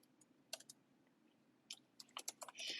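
Computer keyboard typing while coding a web page, with scattered individual key clicks that turn into a quicker burst of close, faint keystrokes toward the end.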